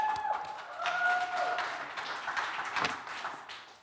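A small group in a Dutch talk show studio claps briefly after a darts 180 is mentioned, light clapping over a murmur of voices.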